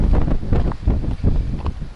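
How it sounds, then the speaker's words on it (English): Strong gusting wind buffets a camera microphone on an exposed coastal hill trail between a windmill and Owhiro Bay, loud low rumbling bursts that swell and dip in uneven pulses, no voices. "as you can hear on the camera, it's really windy."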